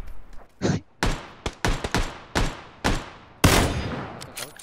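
Gunshots in PlayerUnknown's Battlegrounds ring out as a string of sharp, loud single cracks spaced irregularly, with a denser burst near the end and short echoing tails.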